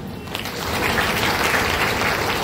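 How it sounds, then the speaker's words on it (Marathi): Audience applause at a ceremony honouring accomplished women in Roha, a dense crowd clapping steadily and loudly, swelling after a brief start and holding for a couple of seconds without voices. "तुमच्या सगळ्यांसाठी, आपल्या सगळ्यांसाठी आपणच टाळ्या वाजवूया"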